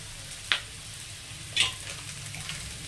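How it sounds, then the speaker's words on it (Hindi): Kundru sabzi with amchur powder is stirred in a frying pan: a low steady sizzle broken by two sharp spoon scrapes against the pan. "और सबको अच्छे से हम चला रहे हैं"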